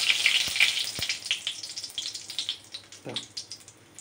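Two dried red chillies dropped into a little hot oil, a bright crackling sizzle that flares at the start and then settles into a quieter spitting fry, with a couple of light knocks.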